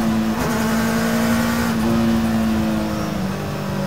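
A custom mid-engine Mini revving to very high RPM, a loud, steady high-pitched engine scream held close by with slight shifts in pitch throughout.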